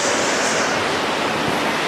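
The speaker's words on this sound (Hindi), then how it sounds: "हम जस्ट वाटरफॉल के पास पहुंच गए हैं, तो पानी की स्ट्रीम इतनी तेज है कि यहां तक पानी की बौछार आ रही है" Bhimlat waterfall near the Mahadev temple in Bundi, Rajasthan, roaring close by as a loud, steady broadband rush of falling water, with spray drifting in and no voices.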